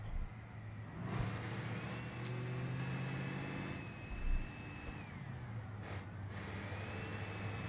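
A truck engine in a Polish road driving video game strains at high revs past 2000 RPM, a steady droning whine that holds, dips briefly and climbs again, with a soft thump midway.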